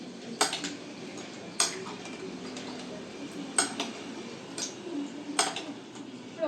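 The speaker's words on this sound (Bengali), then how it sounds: "আমি এবার এটাতে নাড়িয়ে দিচ্ছি" Spoon stirring a cold sago milk drink, with several bright clinks against the glass spaced over a soft, steady background; no talking.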